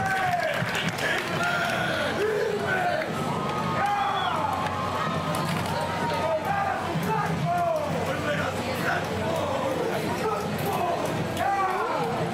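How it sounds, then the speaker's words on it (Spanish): Crowd applause and cheering fill a street parade in Chitré as a school marching band passes, a steady dense wash of clapping with voices talking and calling out over it throughout. "Fuertes esos aplausos."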